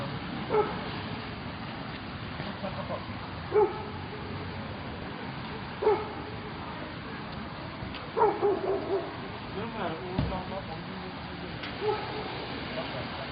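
Dogs on a street barking in short, separate bursts every couple of seconds at a moderate distance, with steady background noise between the barks.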